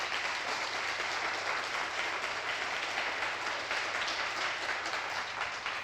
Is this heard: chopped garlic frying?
no